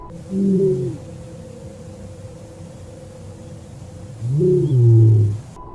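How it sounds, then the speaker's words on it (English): A lion roars outside a tent in the Kalahari Desert: two deep, heavy groaning calls, each about a second long and strongly voiced, are separated by several seconds of steady background hiss, the second call slightly longer and louder. "The chilling sound of a lion's roar, in particular, can be heard from the outside tent."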